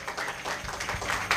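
A church congregation claps for Christ during a Spanish-language sermon, a short burst of scattered, fairly soft hand claps.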